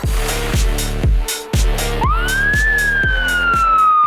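A police car siren wails loudly, its pitch sliding up and then holding, over a steady pounding beat of music at a school party.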